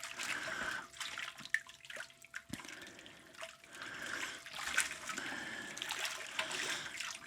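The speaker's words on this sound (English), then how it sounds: "using cold water while I'm filling up the fermenter" Cold water pours into a home-brew fermenter holding Coopers stout wort, a soft, fairly distant gurgling trickle with irregular splashy bursts and small knocks.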